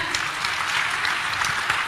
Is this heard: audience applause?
yes